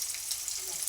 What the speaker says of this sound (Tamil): கடுகு பொரிஞ்சதும் வெங்காயம், கருவேப்பிலையும் போட்டு நல்லா வதக்கி விட்டுருங்க.